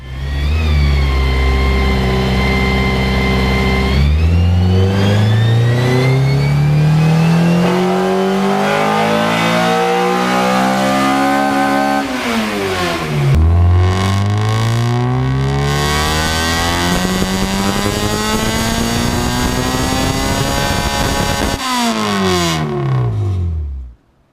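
A Honda EG6 engine revs hard on a dyno, repeatedly climbing in pitch through the gears, loud and close, cutting off abruptly at the end.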